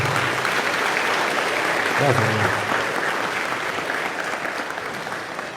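Church congregation applauding steadily throughout, a dense wash of clapping with a voice speaking briefly over it midway.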